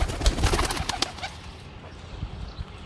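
Sialkoti black-faced pigeons at a home loft coo close by amid a flurry of rustling and movement, then settle into a quieter stretch with only soft, sparse sounds.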